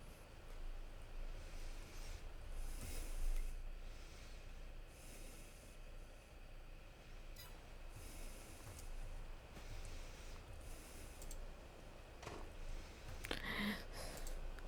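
Rain falling in the Western Wilds farming video game, a steady broadband rush that rumbles like a passing train, fairly loud and continuous throughout with no talking.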